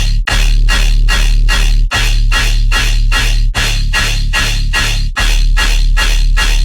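A heavily diffused synth bass from the NASKO diffusion plugin at a raised setting plays a loud, steady pulsing pattern of repeated notes with a sustained low drone underneath, alone and without talk.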